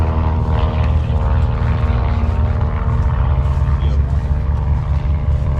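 Midget Mustang, a small fast piston-engine airplane, droning steadily at close range at a fly-in, its propeller and engine giving a continuous loud hum with a rough, buzzing texture throughout, with voices faintly mixed in.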